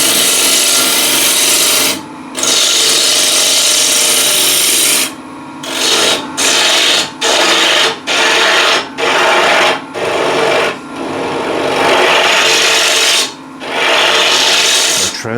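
A ball gouge cuts wood on a woodturning lathe while a trinket box is shaped, producing loud, close, rasping scrapes in repeated passes broken by short pauses.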